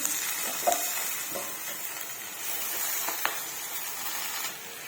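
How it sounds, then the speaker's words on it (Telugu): Steady sizzling of spices tempering in hot oil for a ponnaganti greens and moong dal curry, a constant hiss with a few soft clicks and pops, close by and fairly quiet. "ఇప్పుడు దీన్ని తాలింపులు వేస్తున్నా."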